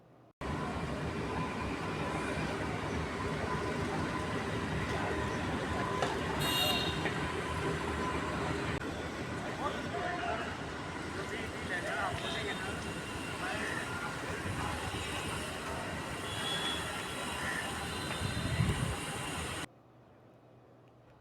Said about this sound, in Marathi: ॲक्वालाईन 3 या भुयारी रेल्वेने आपण पोहोचलो आहोत हुतात्मा स्मारक मेट्रो स्टेशनवर